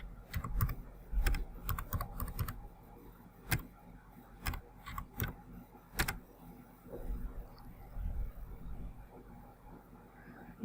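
Typing a web address into a Google search on a computer keyboard: irregular clusters of sharp, close key clicks with short pauses, fairly faint and isolated.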